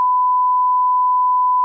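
A censor bleep on a podcast: one steady, loud tone that runs unbroken for well over a second, ending abruptly at a brief burst of noise.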